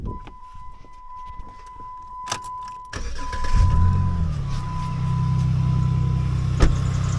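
A Dodge Nitro engine cranks over at about three seconds, catches and settles into a steady running hum, preceded by a quiet electronic chime.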